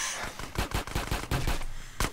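Gunfire in GTA San Andreas, a headshot, comes as a rapid series of loud sharp cracks in bursts, with one last separate shot at the end and no talk over it.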